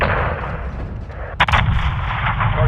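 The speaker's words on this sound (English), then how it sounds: "when you shoot the big missile and it explodes" Heavy blast from an AC-130 missile strike in Modern Warfare 2: a sharp booming explosion over a continuous loud rumble of aircraft and battle noise.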